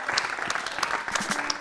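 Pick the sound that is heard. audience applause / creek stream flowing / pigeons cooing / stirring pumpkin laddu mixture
audience applause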